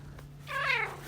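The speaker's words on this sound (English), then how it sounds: "That's Ninja meowing in the background." A pet cat named Ninja gives a single short, rising and falling meow from a short distance, set against a low steady hum in an otherwise quiet room.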